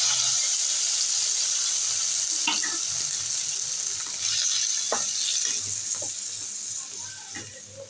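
Panch phoron whole spices crackle and sizzle in hot oil, a dense, steady frying hiss with scattered small pops, close and loud, slowly easing off toward the end.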